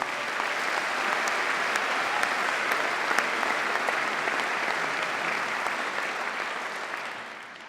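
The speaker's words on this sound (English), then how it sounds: "So I'd like to have a round of applause for that as well" A large graduation ceremony audience at Birmingham City University applauds. Dense, even clapping continues for several seconds at moderate level, then tapers slightly toward the end.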